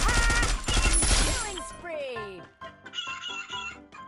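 Clucking chicken sounds in an online shooter game ring out under bursts of rapid gunfire, with players' voices chattering over the noisy mix.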